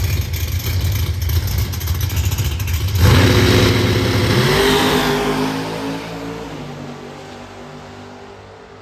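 Outlaw drag racing cars at Beech Bend Raceway launch with a loud, rough engine roar that rises into a climbing rev as they accelerate away, fading into the distance.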